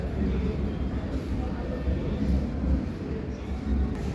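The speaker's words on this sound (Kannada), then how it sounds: "ನಾವು ಕಾರವಾರದಿಂದ ಮುರುಡೇಶ್ವರಕ್ಕೆ ಟ್ರೈನ್ ಮೇಲೆ ಹೋಗ್ತಾ ಇದ್ದೀವಿ" Steady low rumble and rattle of a moving train carriage travelling from Karwar to Murudeshwar, continuous throughout with a constant droning hum and no clear voices.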